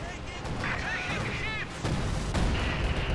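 Stuka zu Fuss rocket artillery launching a salvo in Company of Heroes 2, a continuous rumbling barrage of whooshing rockets and booms with battle noise layered under a commentator's voice.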